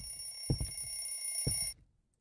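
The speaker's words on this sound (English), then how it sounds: "Oh, it's an alarm clock." A bedside alarm clock in a horror video game rings in two short electronic bursts, a bright steady tone under low thuds, then cuts off into silence.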